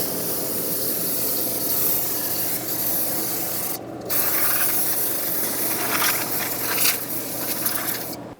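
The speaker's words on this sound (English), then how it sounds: "rinse everything, including the shoes and the hub, with brake parts cleaner, get it all cleaned up," Brake parts cleaner sprayed onto the brake hub and shoes of a Subaru Crosstrek, a steady loud aerosol hiss with a brief pause partway through before spraying resumes, with no talking.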